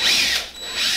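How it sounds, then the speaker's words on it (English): A power drill bores a small hole into a wall where a mini-split heat pump mounting plate will attach, giving a steady, close, high-pitched whine that dips briefly midway, with no talking. "I'm going to drill a little hole right here in the center where the mounting plate is going to attach."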